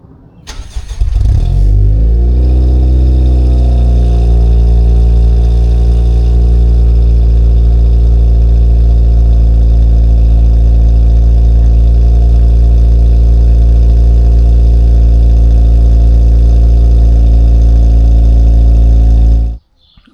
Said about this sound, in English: So I'll probably throw a clip in so you can see how my remark exhaust sounds.